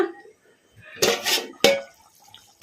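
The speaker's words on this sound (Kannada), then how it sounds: "ಮುಚ್ಚಳ ತೆಗೆದು ನೋಡೋಣ" Metal lid lifted off a simmering pot of egg masala gravy curry, a couple of sharp clanks and scrapes of metal against the pot rim with soft bubbling in between, close and fairly loud.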